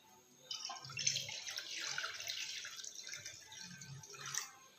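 Water poured into a kadai pan on a lit gas stove while making vegetable pasta gives a soft, steady splashing trickle with small drips, fairly close and alone for nearly five seconds.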